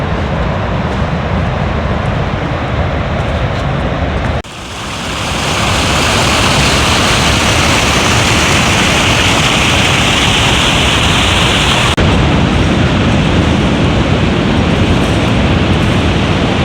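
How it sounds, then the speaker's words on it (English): Sea roars along the Seaham coast on the East Durham shore on a misty morning, a loud continuous rushing wash of surf that swells and stays dense throughout, with no voices. "There's the roar of the sea."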